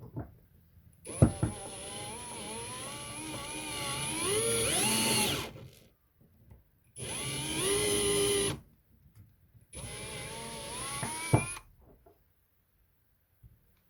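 A cordless drill spins a nail while an M4 die cuts a thread into it, whirring in three separate bursts, each a few seconds with a rising and falling whine, separated by short silences.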